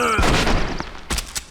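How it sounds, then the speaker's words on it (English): A double-barrel shotgun fires in the video game Kingdom Hearts: loud booming blasts with a dense, ringing burst at the start, then two sharper cracks near the end, with no talk. "Clayton just shot Tarzan point blank with a double-barrel shotgun, and Tarzan will be just fine."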